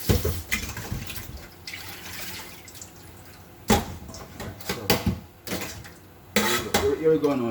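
Food is washed in a bowl of salted water with repeated splashing, sloshing and clinking against the dish in irregular bursts. A voice speaks over parts of it.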